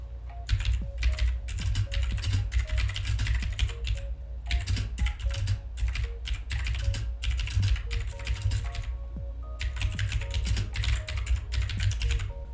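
Close, steady clatter of a computer keyboard being typed on while text is entered in Canva, coming in bursts with short pauses over a low background hum.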